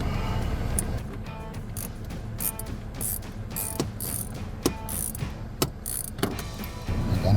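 A ratchet tightens seat bracket bolts while a Misch 4x4 5-inch BigBoy seat bracket is fastened into a Jeep Gladiator JT, giving close, repeated sharp clicks in uneven bursts over a low background hum.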